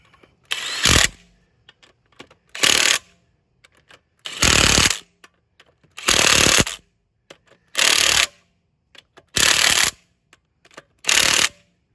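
Electric impact wrench hammering lug nuts on a Cadillac Escalade wheel during a brake job, seven loud, close bursts of about half a second each, separated by short quiet gaps with no talking.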